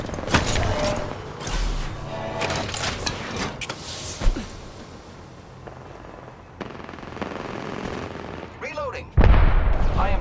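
Automatic weapon fire in the video game Apex Legends, on the winter express map with the character Bangalore: repeated loud bursts and scattered single shots over a busy game mix, with voices faintly mixed in.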